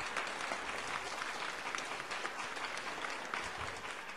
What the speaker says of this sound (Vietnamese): Xin quý vị một tràng pháo tay thật lớn được không ạ?